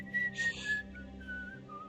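A character in the video game The Wolf Among Us whistles a few thin notes over a low hum of game background sound, with a brief noisy rustle early on.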